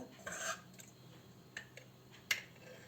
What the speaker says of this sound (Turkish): Şimdi tereyağını kavanozdan çıkartıyoruz